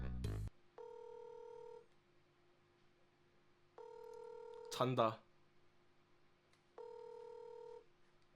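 A telephone handset ringing back in three evenly spaced tones while a call is placed, clear and steady, with a brief burst of voices and a knock between rings.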